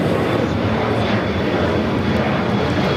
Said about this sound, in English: 2098 coming in from Dallas, Fort Worth on a 787-8 Dreamliner